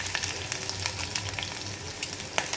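Garlic cloves frying in hot oil for tempering a quick mango pickle, a close, crackling sizzle with rapid sputtering pops throughout, no voices.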